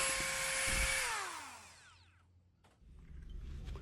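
A Dewalt DCE555B multi-purpose cutting and drilling tool for ceiling and drywall work whines loudly at high speed, then spins down over about a second into near quiet. Faint handling noise follows.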